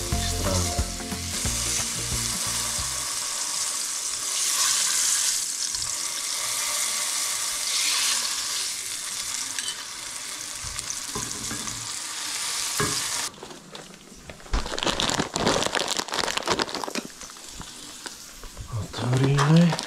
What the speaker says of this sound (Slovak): To dobre orestujeme, aby nám udržalo šťavu zo všetkých strán.